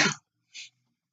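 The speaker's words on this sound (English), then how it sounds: "apologize about that. Everybody sneezes." A single short sneeze bursts out sharply, followed by a fainter, brief after-sound and then near silence; no talking is heard.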